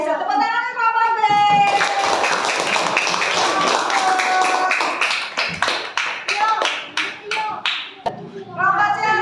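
Classroom applause for a student group after a presentation, dense clapping from many hands that thins into scattered claps before voices resume.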